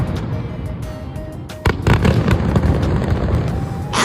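Fireworks burst over the Toyohira River during the Sapporo fireworks festival in Japan, with a dense, continuous roll of booms and crackles that swells suddenly louder partway through.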